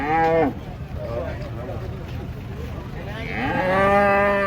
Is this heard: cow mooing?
yes